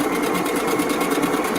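A sewing machine stitches forward along ribbon with a fast, even mechanical whir, close and steady for the whole stretch, with no talking.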